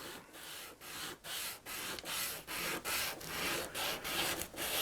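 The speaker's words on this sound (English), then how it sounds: "Now, do a little 600 grit just to smooth it up." Fine 600-grit sandpaper rubs in quick rhythmic back-and-forth strokes, about a dozen even swipes, each a soft hiss, close up with no talking, while an arcade board part is smoothed during a Popeye repair.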